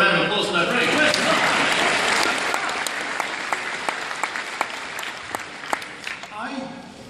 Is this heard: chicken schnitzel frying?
no